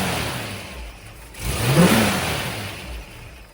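A 1967 Shelby GT350 V8 with a Le Mans carburetor and Cobra intake idles steadily, then gets a single strong rev that rises and slowly falls back toward idle, close and loud, with no talking.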